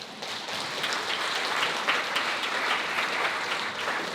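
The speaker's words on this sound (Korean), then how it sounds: "박수하겠습니다" Steady applause from wedding guests at a church-style ceremony in a hall, a dense even wash of clapping that holds at moderate loudness without pause.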